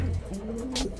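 Breeder pigeons in a loft give a low, rolling coo that swells and falls over about a second, close and clear, with a brief rustle near the end.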